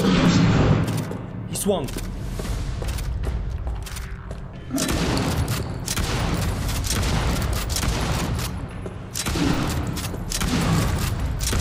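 Rapid, loud gunfire echoes through the body cam horror game Chuxie, with bursts of shots and booming thuds repeating throughout while a player talks excitedly over the shooting.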